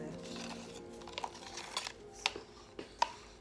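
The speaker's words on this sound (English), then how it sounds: "the palette knife to stir it" A palette knife stirring acrylic pouring paint in a cup, quiet scattered taps and scrapes against the rim over a faint background hum.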